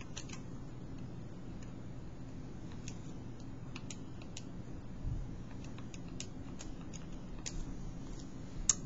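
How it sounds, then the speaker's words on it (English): Sparse, light key clicks from numbers being entered on a calculator, faint and close against a quiet room hiss, with no speech. "When you type this in the calculator"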